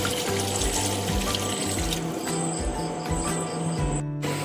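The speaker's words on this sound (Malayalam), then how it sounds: "ഇനി ആവശ്യത്തിനുള്ള വെള്ളം ഒഴിച്ചു കൊടുക്കാം." Water pours into a Kerala-style river fish curry made with kudampuli, a continuous close splashing trickle under rhythmic background hum, ending with a brief clatter.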